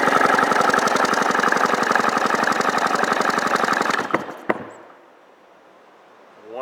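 A 1995 Sea-Doo XP's 717/720 two-stroke engine, out of the craft, cranks over steadily on the starter for about four seconds with rapid even pulses, then stops with a couple of clunks before near silence.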